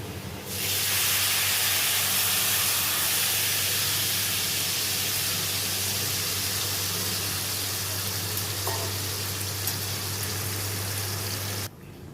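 Meat poured into a hot pan with fried garlic and ginger sets off a loud, continuous hissing sizzle that holds evenly for several seconds before stopping.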